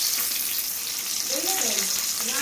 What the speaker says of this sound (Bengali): খিচুড়ির আলুগুলো প্রথমে ভেজে নিচ্ছি